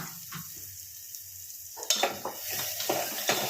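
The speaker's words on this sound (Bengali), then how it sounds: "এটাও ভালো করে নাড়িয়ে নেবো, মিশিয়ে নেবো।" Dalia in a pan, with turmeric and Kashmiri chili powder just added, is stirred with a spoon, giving a quiet start, then scraping strokes and soft sizzle that grow louder and more rhythmic in the second half.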